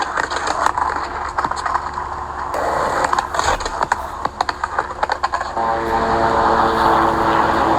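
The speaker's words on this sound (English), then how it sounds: "there's a plane flying overhead." A propeller plane drones loudly overhead, its engine a steady buzzing roar that swells toward the end, mixed with scattered knocks and clatter; no speech.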